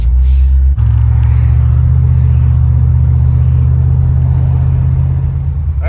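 A C4 Corvette with a new radiator rumbles while driving, its deep steady engine drone loud and close from inside the car after a brief start, with no talk.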